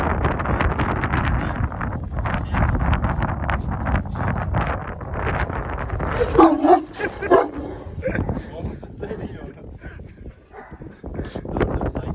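A dog barks and yips repeatedly in bursts amid wind noise, with people talking over it at close range.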